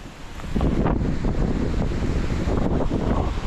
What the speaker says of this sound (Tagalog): naranasan pa rin natin ang malakas na hangin